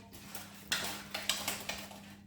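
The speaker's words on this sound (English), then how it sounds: "There's metal bits in the tank." Faint metallic clinks and rattles sound a few times in quick succession as loose metal bits shake inside a Honda CX500 motorcycle fuel tank, with a low hum beneath.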